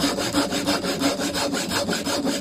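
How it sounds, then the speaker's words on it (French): A hand saw cutting through wood in steady, even back-and-forth strokes, close and loud, with a regular rhythm of about four strokes per second and no talking. "Et puis maintenant, on scie."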